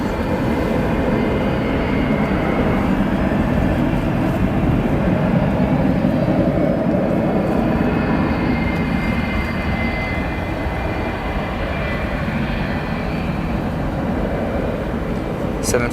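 A Boeing 757-300 at O'Hare airport fills the scene with a steady, broad jet-engine roar that holds at an even level throughout, like a long rumbling airliner heard from nearby.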